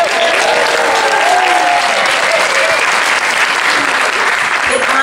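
A large conference keynote audience applauding steadily and loudly, dense clapping filling the whole stretch without pause.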